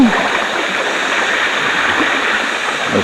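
A creek flows in an even, loud rush of water heard close by, steady and unbroken over three seconds with no voices.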